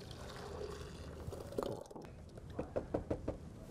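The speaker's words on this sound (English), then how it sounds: "we're going to pour that back into the blender" A melted mint ice cream mixture is poured back into a blender jar, with a soft liquid trickle followed by a few distinct knocks and taps against the container near the end.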